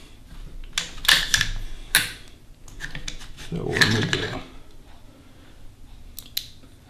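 Short metallic clicks, snaps and clacks come from a SIG 556 rifle being field stripped. They arrive in irregular bursts, up close, with small rattles between them.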